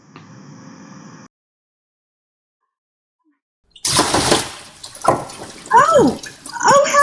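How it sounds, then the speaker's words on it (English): A bucket of water tips over onto an office floor in a radio play: after a brief quiet gap, a loud splashing gush hits, followed by dripping and sloshing water. "sends a deluge of water across the office"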